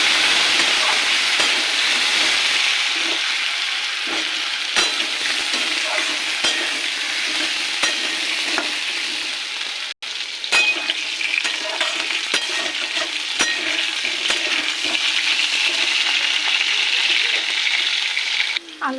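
Potatoes fry in a pan with a steady, loud sizzle and spitting oil, while occasional clicks of a spatula stirring them break through, close up and continuous.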